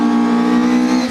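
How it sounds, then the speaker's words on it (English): A Mitsubishi Colt rally car on a historic rally stage, its engine roaring loud and close at a steady high pitch as it drives sideways. "Andrew Skeet is more likely to put a few dents in his Mitsubishi Colt with his sideways style"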